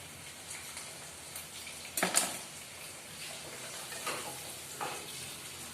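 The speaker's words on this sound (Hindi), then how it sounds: "पहले लहसुन प्याज अदरक अच्छे से भून जाए।" Garlic, onion and ginger sizzle and crackle steadily in hot oil in a wok, with a short burst of stirring clatter partway through and softer scrapes later.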